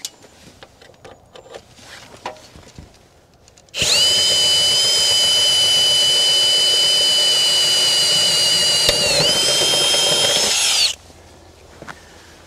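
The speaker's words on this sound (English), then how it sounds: "I'll go ahead and drill the larger hole now." A power drill bores a larger hole for routing a Starlink cable, whining loudly and steadily for about seven seconds, its pitch dipping slightly near the end, with quiet clattering before and after.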